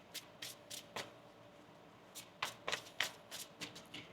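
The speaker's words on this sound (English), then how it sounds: "One more shuffle here." A deck of tarot cards is shuffled by hand in quick riffling bursts, a run of crisp papery flutters and taps that comes in uneven clusters, close and fairly quiet with no talk.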